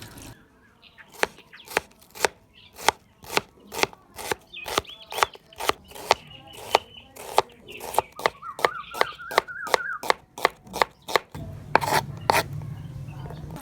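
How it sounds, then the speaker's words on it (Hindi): A knife chops onions on a board with about twenty crisp, close, evenly paced strokes, then the cutting stops and a low hum remains. No one speaks. "जब तक घी गर्म हो रहा है तब तक हम प्याज की कटाई कर लेंगे।"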